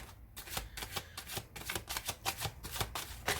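A tarot deck is shuffled by hand in a rapid, continuous run of crisp card riffles and slaps, close and steady with no talking.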